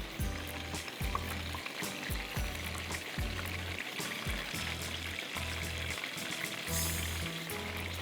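Pakoras sizzle and crackle in hot oil, a dense steady frying hiss with light bubbling that carries on uninterrupted, close and moderately loud, with no voices over it.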